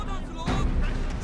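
Massed gunfire from a Shogun 2: Total War multiplayer battle, a burst of volleys and booms rising mid-clip under a loud game soundscape.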